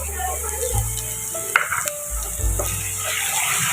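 Garlic ginger paste sizzling in a pan with browned onions, a steady crackling fry with a few clinks of a utensil against the pan.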